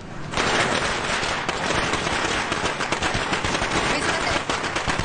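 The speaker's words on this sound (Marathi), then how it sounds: "फटाके फोडायचं कसं सुचतंय रे तुम्हाला?" Firecrackers going off in a dense, continuous string of rapid cracking bursts, loud and unbroken for several seconds with no talk over it.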